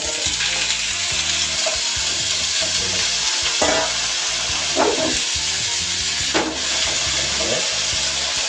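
Steady, loud sizzling of cut potatoes frying in hot oil in a wok, continuous throughout, with occasional clatters and stirring noises close by.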